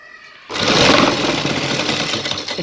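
Close, loud whirr of a sewing machine stitching a strip onto a garment neckline kicks in after half a second of near silence, then runs on at an even pace with faint rhythmic clatter.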